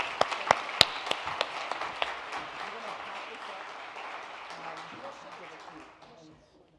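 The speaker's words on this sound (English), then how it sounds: "I want you to help me thank Hannah with a round of applause." A room of guests at a 2014 health braintrust luncheon gives a round of applause, with sharp individual claps at first that settle into a steady patter and gradually fade out.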